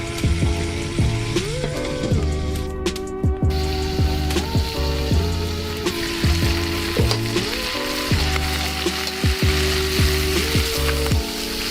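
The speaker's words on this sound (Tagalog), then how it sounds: "Tapos ilagay na ang karne at i-mix lang, tapos takpan hanggang medyo magkulay brown." Pork for humba sizzles and fries loudly in a pan, with repeated scrapes and clinks of a utensil stirring the meat throughout, close and continuous with no speech.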